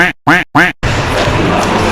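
A car horn honks three short, loud times in quick succession during a music-video shoot, and a broad, steady outdoor rush follows.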